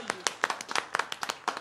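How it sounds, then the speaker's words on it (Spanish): Scattered clapping from a small audience at a live rooftop Labor Day concert, a short burst of uneven individual claps, fairly close and moderate in level. "También otro aplauso."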